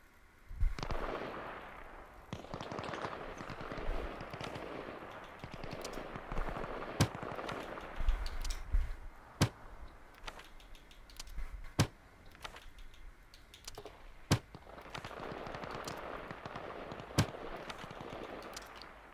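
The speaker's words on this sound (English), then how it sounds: "we're gonna do another bombing run on the Americans." Bombing run in the military video game Arma Reforger, with booming explosions and sharp bursts of gunfire cracking at irregular intervals over a rumbling battlefield background, some blasts close and loud, others more distant.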